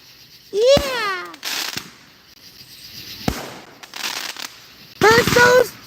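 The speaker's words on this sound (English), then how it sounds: "Burst those fireworks, baby!" Fireworks burst and crackle outdoors during a celebration, with a whistling rising launch followed by sharp pops and booms, while people cheer and shout over the explosions.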